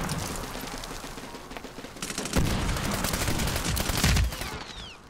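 Rapid bursts of gunfire rattle through a multiplayer battle in Medal of Honor: Warfighter, dense and continuous with heavier blasts punching through around the middle and near the end.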